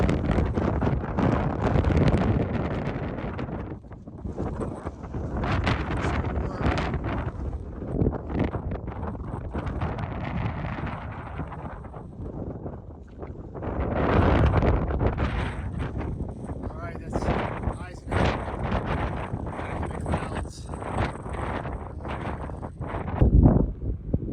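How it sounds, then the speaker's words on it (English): Strong gusty wind roars across the microphone on Mount Pierce, a high summit on the Presidential Traverse, with rising and falling buffeting throughout and a person talking beneath it at times. "The wind's still blowing"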